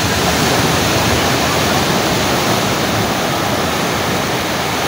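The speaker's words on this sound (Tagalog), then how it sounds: "Ang laki ng alon, no? Taas." Big sea waves crashing while fishing, a loud continuous roar of surf and spray filling the whole clip with no pause.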